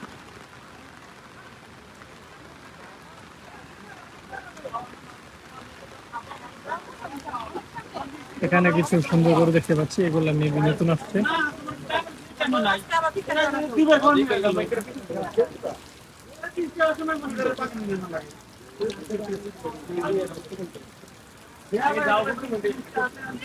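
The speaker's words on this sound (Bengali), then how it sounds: "বৃষ্টি আস্তে আস্তে বাড়তেছে" Rain falls steadily at an outdoor cattle market at Syedpur Koyla Ghat, Narayanganj, a soft continuous patter under loud, close talking throughout.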